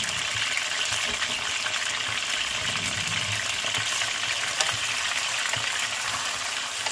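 Chicken pieces fry in a karahi with a splash of water, giving a steady, close, dense sizzle and bubbling hiss throughout with faint stirring.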